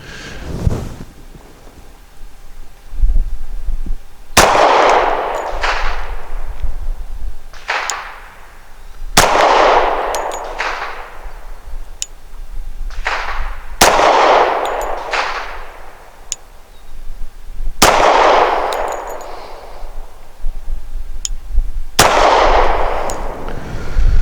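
A Rock Island 1911 pistol with a bull barrel fires 230 grain full metal jacket rounds at a target; about seven loud, sharp shots come at uneven intervals, each with a ringing echo.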